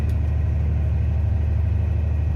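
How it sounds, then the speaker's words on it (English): A dump truck hauling manure idles with a steady low engine rumble while its bed raises, a constant close drone with no speech. "Raising up the bed"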